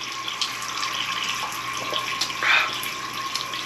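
Water runs steadily from a Vortopt countertop filtration system into a sink, a continuous splashing hiss at close range with a brief louder gush near the end.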